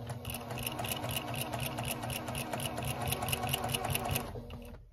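A sewing machine stitching down the binding on a baby quilt runs steadily and close, its needle chattering in a fast, even rhythm the whole time without any talk.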